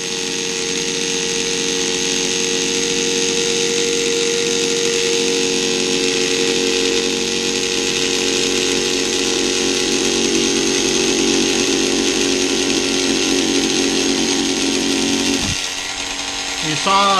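A needle cutter machine runs loud and continuous while cutting at full depth, a harsh buzzing drone that holds steady with a brief dip near the end.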